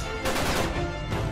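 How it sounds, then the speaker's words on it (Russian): Rapid automatic gunfire in the Uncharted 3 video game, a loud burst of close shots in quick succession over about a second, with no talking. "Вот и сзади еще стреляю."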